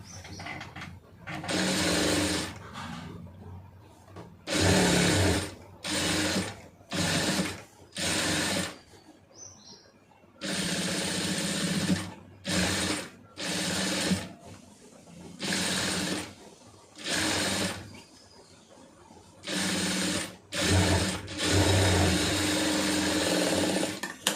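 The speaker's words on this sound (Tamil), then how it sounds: "கரெக்டாக அந்த பீஸ் அளவு வச்சுட்டு ஒரு கால் இன்ச்சுக்கு தையல் போட்டுருங்க" Sewing machine stitching a large sleeve seam about a quarter inch from the edge, running in repeated loud bursts of rapid mechanical whirring separated by short pauses.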